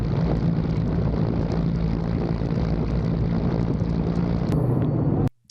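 A helicopter lands on the deck of a ship hijacked by Houthi fighters in the Middle East, its rotor and engine making a loud, steady, close drone that holds throughout and then cuts off abruptly near the end.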